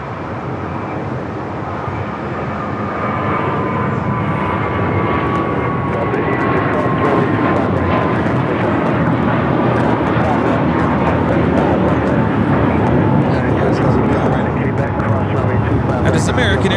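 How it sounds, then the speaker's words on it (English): An American Airlines Airbus A321 takes off from LAX, a broad, loud jet roar that builds over the first few seconds and then holds steady, with a voice talking over it. "That is American Airlines 238 taking off to JFK on the A321."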